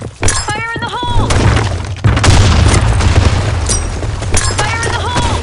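Grenade blast in the online shooter Blackshot on the Sand Storm map: sharp booming bursts with shattering crackle amid dense gunfire and chirpy game effects, one big hit near the start and another midway.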